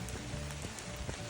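Light rain dripping from trees onto surfaces along a forest trail after a downpour eases, a steady soft patter of scattered drops close by with no talk.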